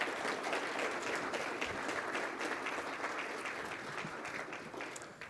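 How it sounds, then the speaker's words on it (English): A crowd applauds at a city's State of the City address. The clapping is steady and fairly soft, sounds somewhat distant, and fades slightly toward the end. "So why don't you give them a round of applause?"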